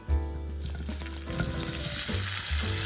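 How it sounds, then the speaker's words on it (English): Tofu drops into hot vegetable oil in a pan on medium-high heat, giving a steady, close sizzle with a brief bubbling burst at the start and scattered crackles throughout. "So now we got the pan on like medium-high heat. We're getting ready to put the tofu in there."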